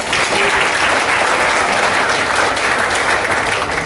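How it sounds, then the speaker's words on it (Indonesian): Audience at a pharmacy study-program field visit applauds on cue, a loud, dense wall of clapping that holds steady for several seconds. "Ya, mungkin bisa tepuk tangan ya."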